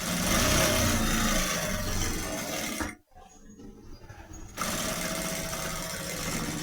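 Sewing machine stitching clear plastic for a toothbrush case, a loud continuous close-up run of the motor that stops for about a second and a half, then resumes.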